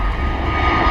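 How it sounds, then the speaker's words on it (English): An Airbus A320neo jet roars on its takeoff run at Bristol Airport, a loud, steady engine rumble heard close and alone for under a second. "super early rotation for that 320neo"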